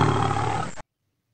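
A lion in a children's story lets out a single loud, rough roar lasting under a second, close and full, then cuts off abruptly into silence.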